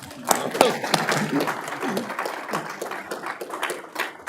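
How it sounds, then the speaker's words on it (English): Attendees at a city council meeting clap in a round of applause, moderately loud with uneven, scattered claps, and a voice briefly sounds over it near the start. "we'll give her a round of applause anyways"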